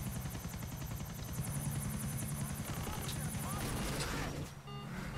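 Helicopter rotor chopping steadily in Grand Theft Auto IV, a loud continuous engine whir with repetitive blade thumps, briefly cut off near the end as a crash sound hits.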